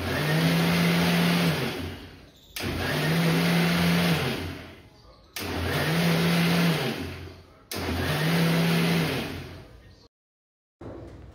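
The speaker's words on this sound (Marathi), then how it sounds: "ते पाणी मी टाकून मिक्सरमध्ये चालू बंद असं फिरवून घेतलं सगळी मलाई" Electric mixer grinder blending malai cream with water, four loud whirring bursts of about two seconds each with short pauses between them, run on and off.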